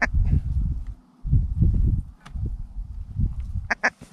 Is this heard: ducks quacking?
yes